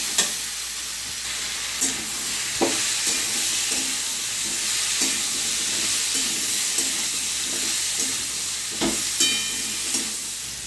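Cumin, coriander, turmeric, Kashmiri chilli and salt fried with mixed vegetables in a pan, a constant loud sizzle broken by regular scraping and knocking of a spatula as the mixture is stirred.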